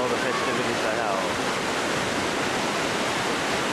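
Swollen Darebin Creek rushing in a muddy torrent, a steady, loud, close wash of churning water filling the whole stretch without break.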